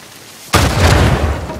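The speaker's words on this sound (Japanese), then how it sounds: "さっきの爆発の原因はこれってこと だな。" Explosion in Uncharted 4: a single sudden loud blast that bursts in sharply, then a rumbling, noisy tail that slowly fades, with no voices.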